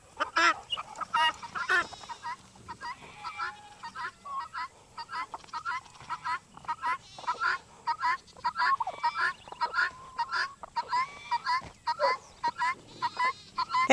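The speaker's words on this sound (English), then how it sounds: "Those guineas are really noisy." Guinea fowl on a farm call noisily in a flock, a rapid, repeated chorus of harsh honking cries close by that continues without pause, with a person speaking briefly.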